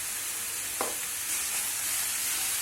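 Onion sautés in a pan for a Marathi-style red amaranth stir fry, giving a steady close sizzling hiss with a light stir or clink partway through.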